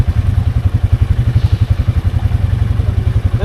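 A motorbike on a night trail runs with a rapid, even engine throb that pulses steadily, close and loud, with no talking.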